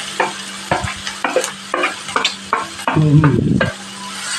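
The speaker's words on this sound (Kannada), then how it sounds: "ನೋಡಿ ಈರುಳ್ಳಿ ಹಾಕತ್ತಾ ಇದ್ದೀನಿ. ಫ್ರೈಗೆ ಚೆನ್ನಾಗಿ ಫ್ರೈ ಆಗಬೇಕು ಅನ್ಕೊಂಡಿದ್ದೆ" Onions tossed into a hot pan for pepper chicken fry, a series of loud close spatula scrapes and clatters in an uneven rhythm, swelling into a burst of sizzling near the end, no talking.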